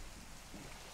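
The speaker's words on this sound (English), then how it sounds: "it's raining now" Steady rain falls in the Minecraft video game on a frozen taiga island, a continuous soft hiss filling the whole moment without any voices or other sounds.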